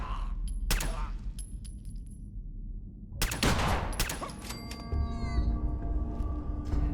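Gunfire in a shooting video game comes in bursts of loud, sharp rapid shots with mechanical clatter, then a short lull and another heavy volley.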